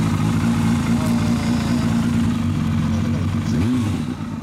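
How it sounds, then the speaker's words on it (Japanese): A 1997 Suzuki GSX400 Impulse fitted with a Yoshimura exhaust idles with a loud, close, throbbing rumble, then gives a quick rev that rises and falls near the end. "エンジンを聞かせてもらえる？"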